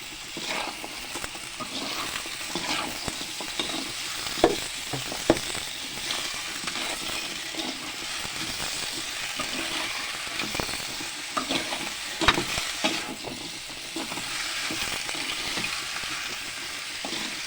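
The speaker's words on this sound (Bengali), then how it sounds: "এখন আমি পেঁয়াজ বাজি লইছি" Onions frying in a pan, a continuous close sizzle with intermittent stirring clicks and scrapes, steady throughout with no talking.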